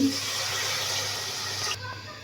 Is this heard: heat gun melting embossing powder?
no